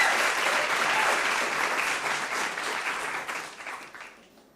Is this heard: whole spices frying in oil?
no